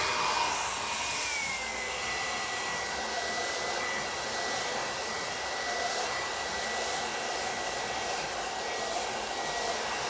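Hair dryer on medium heat blowing steadily while a round brush works through a beard in a barbershop, a continuous close whooshing airflow with a thin high whine throughout and no talking.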